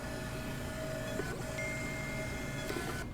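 A label printer at a church check-in kiosk runs steadily, giving a continuous whirring mechanical hum with a sustained tone and a couple of small clicks as the labels feed out, with no talk.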